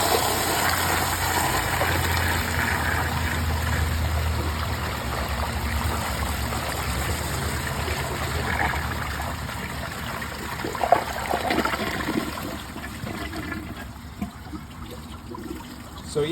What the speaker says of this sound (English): Last flush.